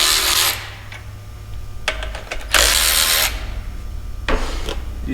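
Ratchet or hand tool working on the two top ends of a 318 engine short block, with bursts of harsh scraping and grinding, loud and close, separated by quieter gaps over a steady low hum.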